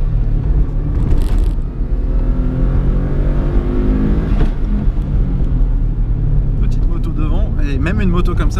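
A motorcycle engine revs loudly and close for several seconds, with a rough rumble and pitch swells, while voices are present beneath it.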